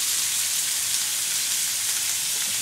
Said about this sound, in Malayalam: നമുക്ക് അരിഞ്ഞു വെച്ചിരിക്കുന്ന ഉള്ളി അങ്ങോട്ട് ഇട്ട് കൊടുക്കാം